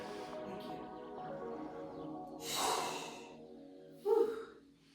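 Heavy breathing comes from someone doing an upper body workout, with deep audible breaths and a sharp exhale or snort near the end, close and fairly quiet over low background music.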